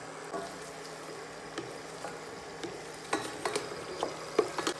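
Onion and garlic with a bay leaf frying in melted butter in a pan, a faint steady sizzle broken by soft stirring scrapes and clinks, heard alone.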